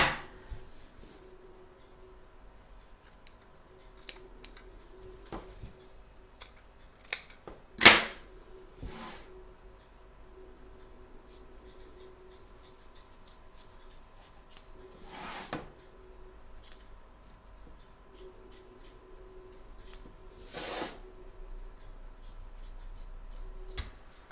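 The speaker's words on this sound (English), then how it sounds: "We're now going to trim up our excess fabric both front and back" Scissors snip away excess fabric around a double-sided Santa applique in an embroidery hoop, with sparse, quiet close-up cuts and occasional sharper snips separated by long pauses, with handling noises in between.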